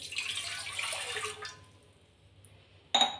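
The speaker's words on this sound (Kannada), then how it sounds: "ಒಂದು ಗ್ಲಾಸಲ್ಲಿ ನೀರು ಹಾಕ್ಕೊಳ್ಳಿ" Water poured into a glass for making ragi mudde, a steady close splashing flow for about a second and a half, then a pause and a brief sharp burst at the end, with no talking.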